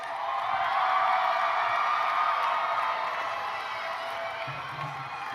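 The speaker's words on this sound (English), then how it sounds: "Please turn to your families and friends and give them a big cheer." Families and friends of graduates at a 2023 college commencement ceremony let out a loud, sustained cheer, a dense wash of crowd noise and applause lasting several seconds with no single voice standing out.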